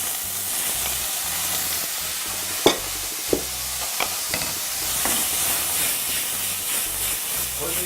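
Garlic, sauce and mutton fry in a hot pan with a steady hiss and sizzle, broken by a few sharp clinks of a utensil against the pan.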